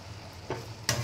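Cumin, nigella, fennel and half a dried red chilli fry gently in a pan, a low, quiet sizzle broken by two brief stirring scrapes near the end.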